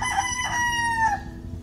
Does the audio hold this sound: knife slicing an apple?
no